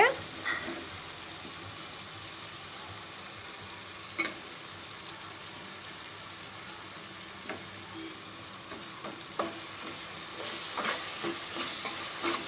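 Ginger and garlic fry in oil for moong dal khichdi, making a faint, steady sizzle with occasional sharp clicks and taps from stirring.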